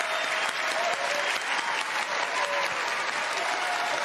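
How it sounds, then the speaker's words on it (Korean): Dense, sustained applause from a large audience giving a standing ovation to the Korean cast of Parasite at an awards ceremony, steady and loud throughout with no letup. "최고상인 앙상블상 후보가 된 한국 배우들에게 기립박수가 쏟아졌습니다"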